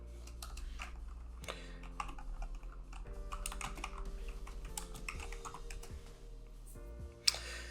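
Close, fast clacking of a computer keyboard as a command is typed and erased, irregular bursts of keystrokes over a faint electronic hum, ending in one sharp click.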